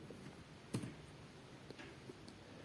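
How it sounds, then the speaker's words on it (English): A single faint key click on a computer keyboard, the Enter key, stands out once in an otherwise quiet, hushed room, followed by a couple of even softer ticks. "After entering all the data, just press enter on the keyboard."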